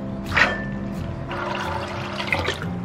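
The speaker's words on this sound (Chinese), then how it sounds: "我们给它淘洗一遍，淘干净， 然后给它沥干水分" Soaked dried peas being rinsed by hand in water, a steady sloshing and swishing with splashy bursts near the start and end, close up with no talk.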